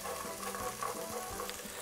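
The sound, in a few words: garlic and tomato paste frying for beef stew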